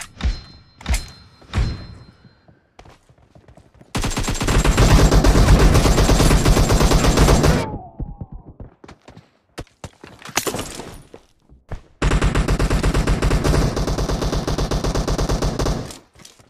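Gunfire in PUBG, scattered single shots and short bursts, then two long sustained bursts of loud automatic fire separated by a brief lull.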